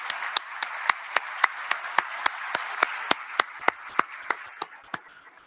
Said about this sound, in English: let's give a huge round of applause to our friends